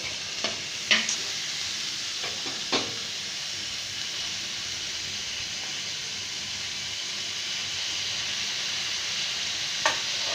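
Tomato pieces for pav bhaji fry in a pan with a soft continuous sizzle, broken by a few sharp spatula scrapes and clinks early on and one near the end; the cooking sounds are close and quiet, with no talking.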